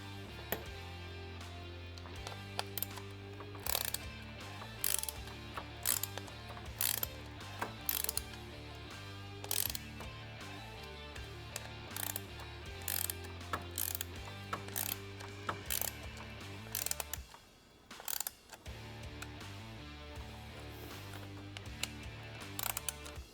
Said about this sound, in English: I'm going to go ahead and tighten down those T20s on the back side